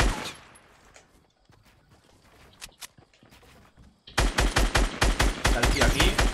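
Rapid automatic gunfire bursts loudly in a Fortnite Showdown match, a fast regular string of shots after quieter scattered shots and movement sounds.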